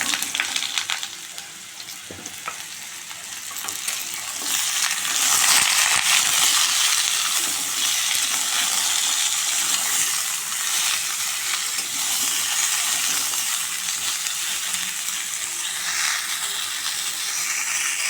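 Chopped, washed kochu (taro) vegetables hiss and sizzle steadily in a hot pan, with scraping and clattering stirring sounds running throughout.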